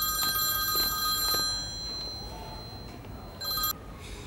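A telephone rings with an incoming call, its electronic tone sounding in a few bursts with short pauses between, fairly close and clear over a quiet room.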